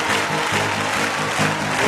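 A church congregation applauding and cheering to honor the Holy Spirit during worship, a steady wash of many hands clapping together, loud and sustained without a break.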